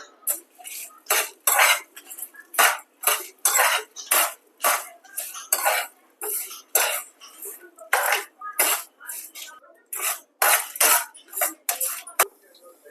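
Mustard seeds, fenugreek, cumin and dry red chillies roast in a hot pan for a tempering, crackling and popping in dense, irregular bursts throughout, close and fairly loud with metallic scraping accents.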